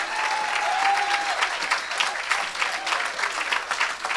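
A church congregation claps loudly and continuously for Jesus during an evangelist's service, dense applause with a brief shout near the start.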